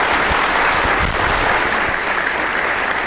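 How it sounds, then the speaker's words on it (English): An audience at a symposium applauds the panelists with steady, loud, continuous clapping that fills the room without a break. "please give a round of applause here for our esteemed panelists."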